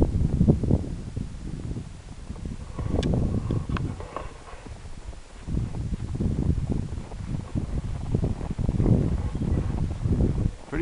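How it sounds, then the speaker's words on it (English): Gusty wind buffets the microphone on a winter walk near ice, rising and falling in loud rumbling bursts across the whole stretch. "Windy."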